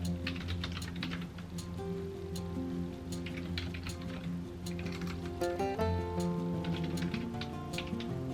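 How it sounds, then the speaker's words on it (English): Typing on a computer keyboard, a steady stream of quick light key clicks at an uneven pace, close and alone over faint background hum. "get some typing done"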